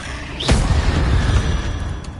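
A Bombarda or Confringo spell in Hogwarts Legacy lands with a whooshing zip and then a single booming blast, with a rumble that fades over about two seconds.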